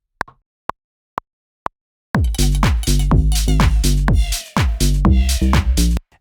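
Four sharp, evenly spaced clicks come first. Then a Raspberry synth lead bursts in loudly, playing a tech house drop with dense, punchy chopped notes over heavy low end. It pauses briefly near the end before the notes return.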